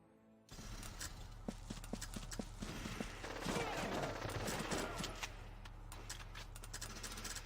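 Gunfire in the Valkyria Chronicles video game during a forest battle, a rapid series of sharp shots rattling over a steady low hum, with a louder cluster of bursts in the middle that then thins out.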